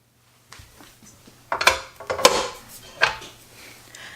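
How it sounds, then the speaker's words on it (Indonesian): Balloon whisk beating egg whites in a clean bowl for pandan chiffon cake, a few irregular metallic clinks and scrapes close by, starting quietly and growing louder, with no talk. "Nah, sekarang kita mulai mengocok."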